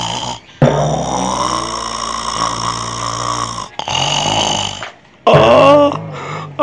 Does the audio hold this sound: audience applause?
no